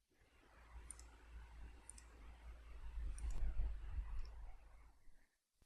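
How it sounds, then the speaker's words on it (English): A computer mouse clicks a few times, soft short ticks over a low steady hum and faint room noise. "You have to click apply."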